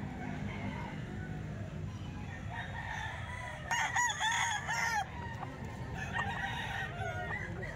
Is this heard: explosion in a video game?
no